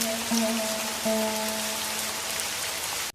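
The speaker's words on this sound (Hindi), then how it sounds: "आज तो बारिश ने जम के कहर ढाया है" Heavy rain pours down in an animated cartoon scene, a steady dense hiss of drops on surfaces with a faint sustained tone beneath, loud and continuous before cutting off abruptly at the end.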